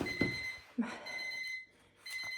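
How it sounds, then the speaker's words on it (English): A kitchen timer alarm rings in a home kitchen with steady repeated high beeps, fairly faint and continuous, broken by brief bumps and handling noises. "let's stop the timer"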